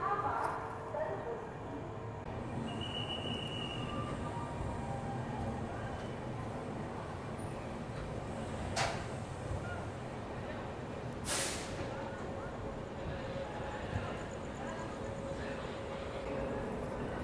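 The Duronto Express from Howrah, Kolkata, rolls into a station with a steady, close rumble and two brief sharp hisses, while voices murmur around it.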